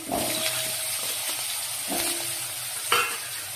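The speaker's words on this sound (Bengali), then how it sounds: "এবার এটাকে একটু ভেজে নেবো লাল লাল করে" Shrimp fritters frying in oil seasoned with turmeric and salt give a steady, moderate sizzle with a few scraping stirs and clinks of a utensil against the pan.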